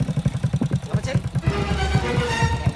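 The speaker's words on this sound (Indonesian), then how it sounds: "Tapi motor tok sing di unjak nih" Motorcycle engine sputtering in rapid, uneven pulses as if being kick-started, then catching into a steady idle, close by and moderately loud.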